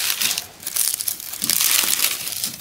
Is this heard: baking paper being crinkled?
yes